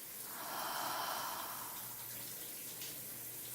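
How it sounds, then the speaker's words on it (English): Shower running in a bathroom, a soft, steady hiss of falling water that stays faint and even throughout. "I get into the shower."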